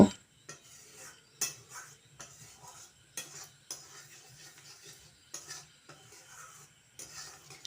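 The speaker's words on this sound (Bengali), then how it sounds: "এই মশলাগুলো দিয়ে আমি ভালো করে নেড়ে চেড়ে আলুটা কষিয়ে নেব" Potatoes with chili powder, salt and spices are stirred in a pan with a metal utensil, giving repeated scraping and clinking strokes at an irregular rhythm. A faint sizzle runs underneath and nobody speaks.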